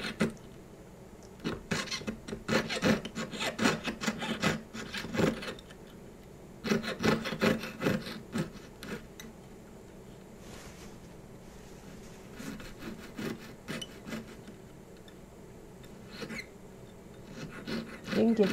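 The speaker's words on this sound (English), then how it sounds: "You can get back in there with your saw like that and use it like a file." A jeweler's saw worked like a file against a small sterling silver flower piece, giving short scraping strokes in bursts with pauses, close and moderately loud.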